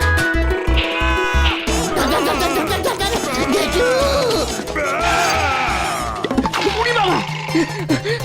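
Goats bleat loudly and repeatedly at close range, wavering cries overlapping one another over a rhythmic low thumping background.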